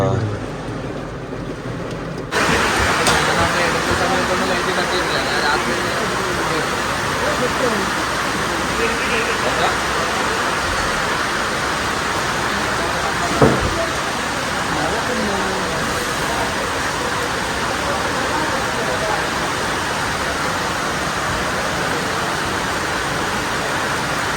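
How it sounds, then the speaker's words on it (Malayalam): Heavy rain and gusting wind heard from inside a car, a dense, loud, steady roar of water on the body and glass that continues without a break for the whole stretch, with faint voices underneath. "അടിപൊളി മഴ പെരുമഴ പെയ്യാണ് നല്ല മഴയല്ലേ"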